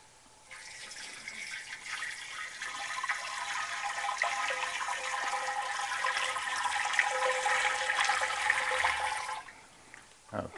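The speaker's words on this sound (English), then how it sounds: "I'm going to pour some of this water into the machine now" Water pours steadily into a machine for about nine seconds, a continuous rushing, splashing stream close by that starts abruptly and cuts off near the end.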